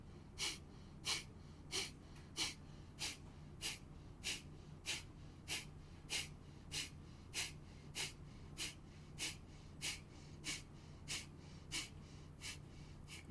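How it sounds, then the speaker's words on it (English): Breath of fire yoga breathing while lying in cobra pose: quick, forceful nasal exhales repeat in a steady rhythm about every half second. The breathing is close and quiet, with no talk over it. "So we're shifting our breath to breath of fire."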